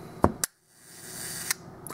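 A Hasselblad SWC camera with a Biogon 38mm lens fires its leaf shutter at a one-second speed: a crisp click opens it, a short quiet pause follows, then a second sharp click closes it, close and clean with no talking.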